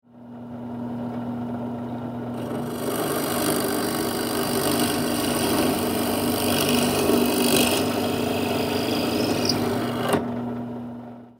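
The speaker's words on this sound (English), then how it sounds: "This is where we're going to drill our hole, and it's important that hole is straight." A drill bores a hole through a wooden cornhole leg, with a steady motor hum and a rough, grinding cut running continuously for several seconds before stopping abruptly, close and alone.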